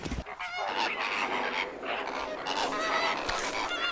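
A flock of flamingos calls in loud overlapping goose-like honks that go on without pause, with a few sharper squawks and knocks near the start and end.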